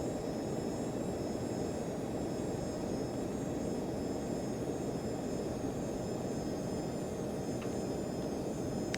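Steady, loud airliner engine roar in a home-built flight simulator cockpit during takeoff from Minneapolis, a continuous broadband rumble with a faint high whine, no voices.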